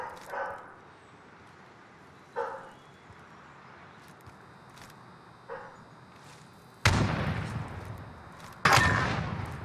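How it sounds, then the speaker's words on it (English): A dog barking somewhere in the room in a few short, spaced single barks, fairly faint, while loud bursts of gunfire from a Modern Warfare Search and Destroy match cut in near the end. "my dog is barking"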